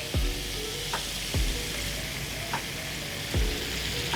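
Onions fry in melted butter and sugar in a pan, a steady close sizzle with a few soft knocks from stirring, and no talking.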